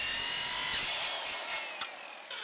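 Chainsaw cutting through a homemade snowboard, a loud continuous buzzing rasp of the blade in the board that fades and thins toward the end, heard alone without talk.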